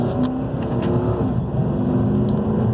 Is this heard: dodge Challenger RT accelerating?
yes